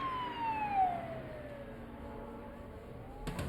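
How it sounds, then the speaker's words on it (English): Faint police sirens wail and slowly fall in pitch in the distance outside, fading beneath a quiet background hum before a brief knock. "Hearing police sirens outside, the man grew agitated and nervous."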